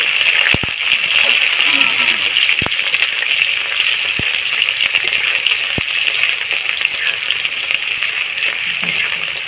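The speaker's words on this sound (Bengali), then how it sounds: "তারপরে আমি দিয়ে দিচ্ছি পেঁয়াজ পেঁয়াজটাকে আমি একটু লাল লাল হয়ে ভাজতে দেবো" Onions frying in hot oil with bay leaves, a dense continuous crackling sizzle with a few sharp clicks of a utensil, loud and close.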